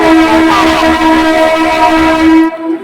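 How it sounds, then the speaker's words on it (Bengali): A local train on the Howrah–Tarakeswar line pulls into Bally station, its horn blaring loud and close in one sustained, wavering blast for nearly three seconds before cutting off. "এই যে বন্ধুরা বালি ট্রেনটি ঢুকে গেছে"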